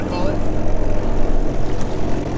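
A jet ski engine drones steadily while the craft spins a full circle to line up with its trailer, a loud continuous low rumble with a broad wash of wind and water noise.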